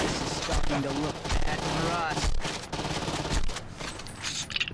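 Gunfire in the open-world game Saints Row 2 during a fight at a mansion, with rapid bursts and volleys of shots crackling over game noise while a player talks and reacts throughout.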